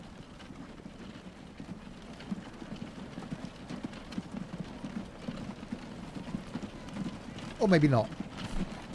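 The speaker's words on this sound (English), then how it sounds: "I think these are our three horse and carts now coming around here" Horse-drawn carts in the transport-building game Transport Fever 2 clip-clop along steadily at low volume, a soft rhythmic patter beneath someone talking throughout, with a brief rising whistle-like game sound near the end.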